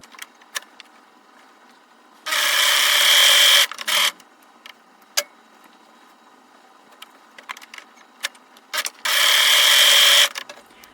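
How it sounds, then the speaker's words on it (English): A serger stitches the shoulder seams of a kid's t-shirt top, right sides together at a 5/8-inch allowance, in two close, loud whirring runs of about a second and a half each, separated by quiet fabric handling and small clicks. "I'm serging the shoulder seams together, 5/8 of an inch, right sides together."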